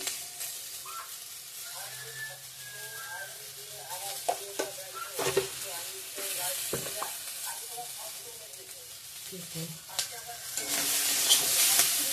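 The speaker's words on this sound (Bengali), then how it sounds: "এখন চিচিঙ্গা ভাজাটা করে নেব।" Sliced snake gourd fries with salt in a pan after its water has cooked off. A steady close sizzle is broken by scraping stir strokes, and it grows louder toward the end.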